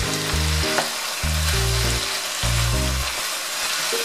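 Chopped tomatoes land in a pot of chicken frying for ginger chicken, bringing a loud, continuous close sizzle over steady low droning tones, with no talking.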